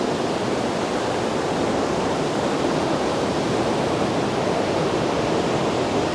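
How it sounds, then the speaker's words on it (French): Swollen alpine mountain torrent in flood, a loud, dense, unbroken roar of rushing water filling the whole clip, steady and close with no variation and no talking. "le torrent est gros, mais pas tant que ça"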